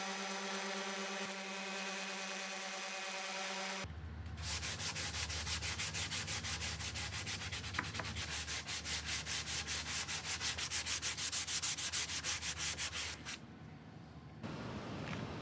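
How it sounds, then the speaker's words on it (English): Wood being sanded with 180 grit sandpaper, a steady scratchy rubbing that runs for most of the stretch in rapid back-and-forth strokes, close and fairly loud, after a brief quieter hum at the start. "I didn't need to do a lot of sanding. I think I just used some 180 grit."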